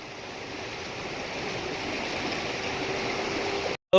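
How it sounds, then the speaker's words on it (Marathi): Behind the Koteshwar Mahadev temple at Limb, Gove, the river gives a constant, even rush of flowing water, close and fairly loud, cutting off abruptly just before the end. "ही मागं नदी आहे"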